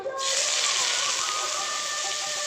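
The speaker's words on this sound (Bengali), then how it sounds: "এবার ঘি দিয়ে একটু ভাজা ভাজা করে নেব যাতে লাউ থেকে গন্ধটা চলে যায়" Grated bottle gourd frying in a spoonful of ghee in a kadai, a steady loud hiss that starts abruptly and holds without a break.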